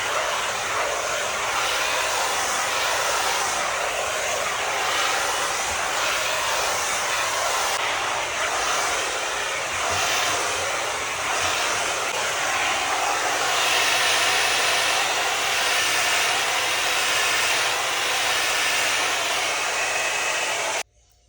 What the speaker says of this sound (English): I'm going to just blow dry it